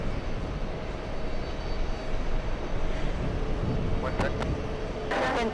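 American flight 302 takes off from runway 31 left at a busy airport, a broad, steady jet-engine roar holding throughout at moderate distance, with voices talking over it.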